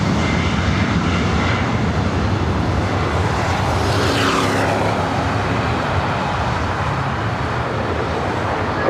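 A jet airliner, a 737, roars loudly during takeoff on runway 24 right at LAX, a dense, continuous engine rumble with a rising whine swelling midway, heard close and alone.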